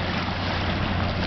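Steady, broadband rush of water as waves from a passing freighter's wake wash ashore at Neebish Beach, loud and close with wind buffeting the microphone and no voices.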